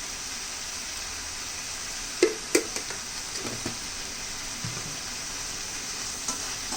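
Tomato rice being stirred in a pan over a medium-high flame, a steady close sizzle with a few soft scrapes and taps of the spoon scattered through it, no voices.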